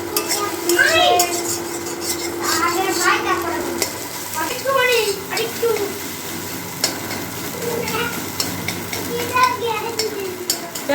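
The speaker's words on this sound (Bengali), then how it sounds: "এবার ডিমটা ভেজে নেব গুঁড়ো গুঁড়ো করে ভেজে নিতে হবে তাই জন্য আমি ভেজে নিচ্ছি" Egg frying in oil in a karai (wok), broken into crumbly bits while cooking for pasta, with a steady close sizzle, scraping stirs and clinks of the utensil, and a person talking over it.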